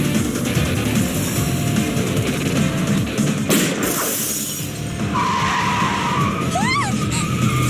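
Video game car chase in Yakuza 0, with a steady roar of engines and rumbling road noise throughout, a harsh crunching skid near the middle, and sharp rising tire squeals toward the end.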